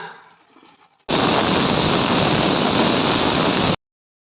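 A pressure cooker boiling turmeric roots in water releases steam in a sudden loud, steady hiss lasting about three seconds before cutting off abruptly, preceded by quiet kitchen noise.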